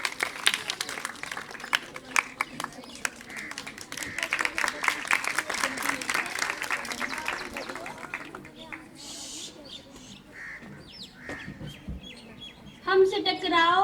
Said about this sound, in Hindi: उनका इस्तकबाल तालियों में कीजिए।